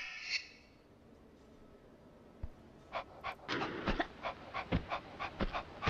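Dog panting in the video game Tomb Raider II Gold, a run of quick, breathy pants that begin halfway through and grow louder and denser toward the end, heard alone.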